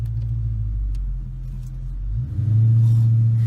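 A 2020 Dodge Charger Scat Pack Widebody pulls away: a deep, steady engine rumble that swells into a louder, thicker roar near the end, heard from inside the car with no talking.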